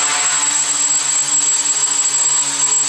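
An ArduCopter APM 2.5 multirotor drone running firmware 2.8.1 hovers nearby, its rotors giving a loud, steady, high-pitched whine that holds constant throughout.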